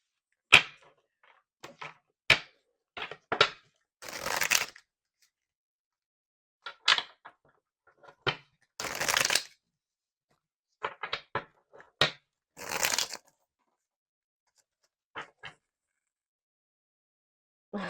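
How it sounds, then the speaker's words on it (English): Close-up card shuffling comes in short riffling bursts separated by quiet pauses, with scattered taps and clicks between them. "I was already seeing this card in my head while I was shuffling this deck."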